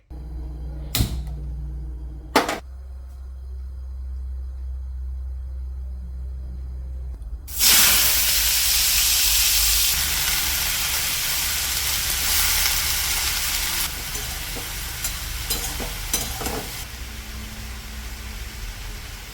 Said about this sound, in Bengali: তো চলো এখন ঝটপট আলুটা ভেজে নেওয়া যাক